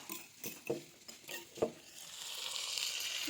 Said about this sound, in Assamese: গেছটো ল' ফ্লেম কৰি লৈ অলপ ভাজি ল'ম